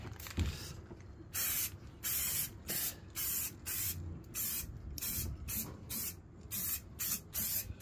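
Paint spray can hissing onto a 3D-printed Handsome Squidward figure indoors, a dozen or so short repeated bursts of about half a second each, close and loud with brief pauses between.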